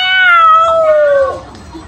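A cat gives one clear, close meow, a drawn-out call whose pitch slides downward before it cuts off, followed by quiet.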